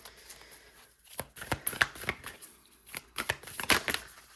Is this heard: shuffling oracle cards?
yes